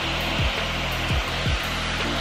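A Dyson Supersonic hair dryer blows steadily and loudly at close range while drying wavy hair, a continuous rushing whir with a few brief dips in pitch as it moves.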